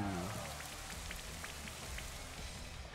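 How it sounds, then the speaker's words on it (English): Steady video game rain from Pokémon Sword and Shield patters and hisses across a surface, with scattered distinct drops over a low rumble, continuous and moderately quiet. "Here comes the rain."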